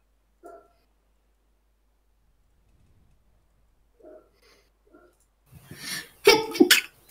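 A sneeze bursts out loud and close near the end, after a long near-silent stretch broken only by a few brief soft sounds.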